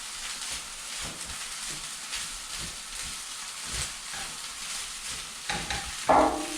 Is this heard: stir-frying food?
yes